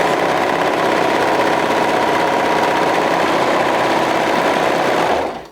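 A sewing machine runs a continuous, steady stitching drone while sewing the sleeve seam of a flutter-sleeve wrap top with a half-inch seam allowance, loud and close, cutting off near the end.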